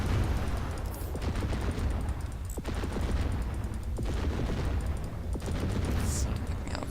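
Missile launches and weapons fire from space-combat gameplay in Fractured Space, a steady dense barrage of booming shots and low rumble with sharp bursts recurring every second or so, loud and continuous throughout.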